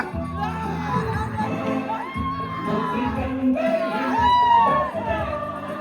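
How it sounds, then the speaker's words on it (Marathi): A crowd at a village box night cricket tournament during Holi celebrates the final-match win, with children shouting and whooping over mixed voices, loud and continuous. "फायनल मॅचचा जल्लोष"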